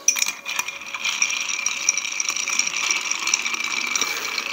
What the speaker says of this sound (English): And give this a stir for at least 20 seconds.